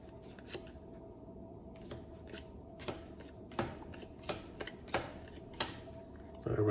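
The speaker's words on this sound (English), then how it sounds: "Take a deck of cards, shuffle them up." A deck of playing cards is shuffled at a table for a family board game, giving a quiet riffling texture broken by a series of sharp clicking snaps that grow denser toward the end, with no speech.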